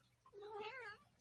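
Domestic cat meowing: a single drawn-out, wavering meow rising then falling, fairly close and clear with no talk over it.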